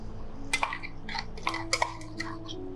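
Metal spoon clinks and scrapes against a pan as fried spice paste goes in with cardamom and cloves for an Afghani malai chicken kofta gravy, several quick close chinks in an irregular rhythm over a steady low hum.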